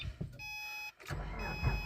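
A Subaru engine cranks with a short whir, catches, and settles into a smooth, even idle, heard faintly and close by.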